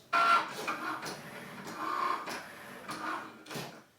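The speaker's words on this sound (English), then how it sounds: "Your Cricut will use a light to find the registration marks and then cut the square on the center of your page." A Cricut Maker cutting machine runs a calibration cut, its carriage whirring and shuttling in repeated mechanical passes with short pauses and clicks, steady and close with no talking.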